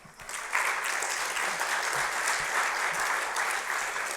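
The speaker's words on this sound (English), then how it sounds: "pace yourself on the clapping" Steady audience applause fills a university distinguished alumni awards ceremony, a dense even wash of many hands that swells quickly and holds without a break.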